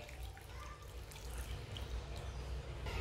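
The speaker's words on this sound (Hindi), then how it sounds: "एक प्याली पानी डाल लेंगे," A cup of water poured into a mixture while cooking, a continuous close trickling and splashing that builds slightly louder toward the end, with no talk over it.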